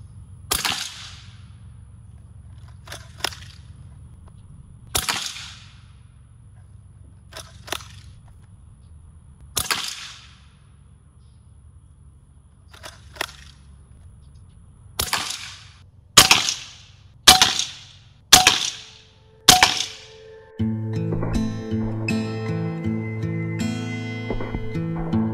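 Four sharp shots fired at a target ring out in quick succession near the end, preceded by scattered sharper cracks and followed by a low, tonal hum.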